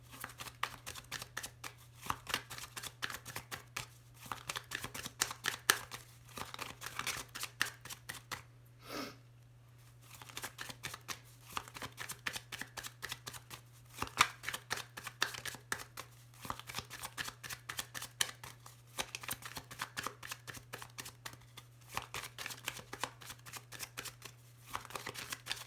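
Lenormand oracle cards being shuffled by hand, a long run of crisp rapid riffling and flicking with a brief pause partway, close and fairly quiet, no talk over it.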